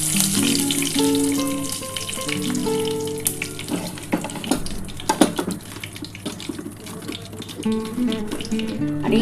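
Bay leaf and whole spices tempering in hot oil, left over from frying eggs, for an egg and pointed gourd curry; a steady close sizzle continues throughout beneath tonal background music.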